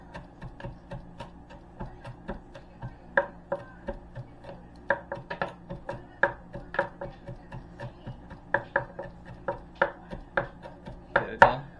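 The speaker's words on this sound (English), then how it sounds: "I'm going to run a knife." A knife chops through corned beef hash against a board, making a steady run of crisp, close taps at an uneven quick pace, with a few sharper knocks toward the end and no talking.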